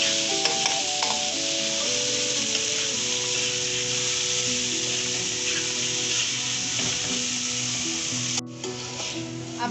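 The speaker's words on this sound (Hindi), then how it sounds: "अब इसे हम तब तक फ्राई करेंगे जब तक कि चिकन का कलर अच्छे से चेंज ना हो जाए।" Cubed chicken fries in a pan with a dense, steady sizzle that runs throughout, over soft background music; the hiss dips briefly near the end.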